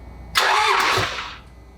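Dodge Ram Cummins 5.9 24v diesel engine bumped briefly by the starter, one short cranking burst that rises sharply, holds for about a second and fades, with no engine catch.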